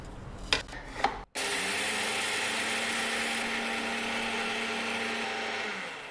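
Two light knocks come first, then after a brief gap a mixer grinder starts up and grinds roasted dal into paruppu podi powder with a steady, loud whirring rasp.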